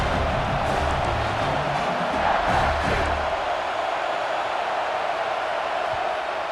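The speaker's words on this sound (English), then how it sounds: "this crowd is coming to help the defense" Stadium crowd roaring in a college football video game, LSU against Georgia, a dense loud continuous roar with cheering that holds steady throughout.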